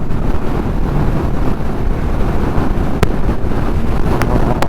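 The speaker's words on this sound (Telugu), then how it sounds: "గాలి చూడండి అసలు ఎట్లొస్తుందో" Steady, roaring wind buffets the microphone without a break, a dense low rumble from riding a motorcycle fast into strong gusts.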